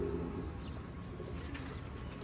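A Teddy Golden female pigeon and others coo softly in low repeated throaty notes close by, with faint chirps over a steady background hum.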